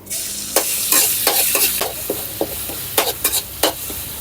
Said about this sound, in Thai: ปลาไหลอันดับแรกเขามาผัดเครื่องแกงก่อนครับ